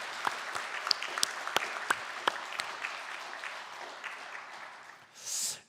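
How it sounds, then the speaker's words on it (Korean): A church congregation at a Sunday morning service applauds in thanks and celebration, a soft continuous patter of many hands with a few sharp nearby claps standing out, fading before a brief rustling burst at the end. "한번 우리 축하의 박수를, 감사의 박수를 보내도 좋을 것 같습니다"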